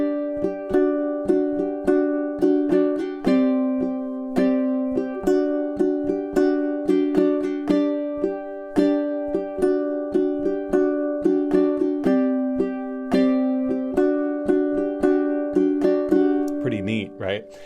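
Ukulele playing measures 32 through 35 of a piece with the repeat, a steady strummed and plucked rhythm with ghosted percussive strokes and ringing chords running continuously for about seventeen seconds, close and clear with no talk.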